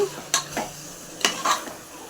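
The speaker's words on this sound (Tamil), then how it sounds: "ஒரு அஞ்சு நிமிஷம் சிக்கன் நல்லா வதங்கணும்" Chicken and masala are stirred in a pot for biryani, giving a few sharp scrapes and clinks of a spoon against the metal, with quiet frying between the strokes.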